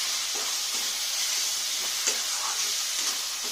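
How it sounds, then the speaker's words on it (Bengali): Mutton masala with ground green chilli sizzling as it is sautéed in a pan, a steady soft hiss with faint scraping stirs throughout, close and without talk. "ভালো করে একটু কষে নেব"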